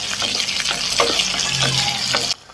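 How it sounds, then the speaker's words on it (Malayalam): Onion and garlic are sautéed in a pan for a spicy green chili curry, producing a loud, steady sizzle close by with stirring scrapes. The sizzle cuts off abruptly just before the end. "വെളുത്തുള്ളിയും ചേർത്തിട്ട് നന്നായിട്ടൊന്ന് വഴറ്റി കൊടുക്കണം."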